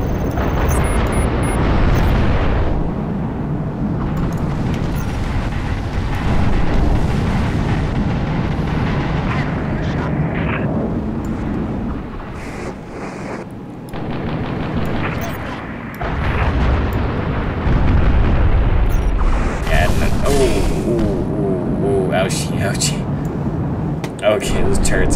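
Turret fire and explosions in the Halo Reach video game: heavy booms and rumbling blasts alongside aircraft-like roaring, loud and sustained throughout, with a voice talking over the battle at times.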